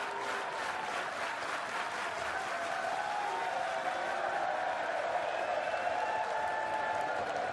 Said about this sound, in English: the crowd giving it the slow hand clap, which is not the most constructive reaction